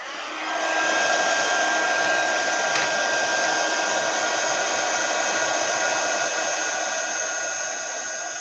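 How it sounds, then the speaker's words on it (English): A heat gun blows on wet paint to dry it, a loud steady whooshing whine with a faint tonal hum that starts abruptly and runs continuously without talk, easing slightly toward the end. "If I put the heat gun on it now,"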